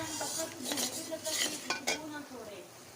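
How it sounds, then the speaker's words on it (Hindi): Gram flour (besan) roasts in hot ghee in a pan. A spoon scrapes and clinks against the metal over a soft sizzle, in close, irregular strokes. "अब इसके अंदर ये मैंने जो बेसन छान के अपने पास रखा है इसको डाल दूंगी और इसको थोड़ा थोड़ा सा भून लेंगे हम अच्छे तरीके से।"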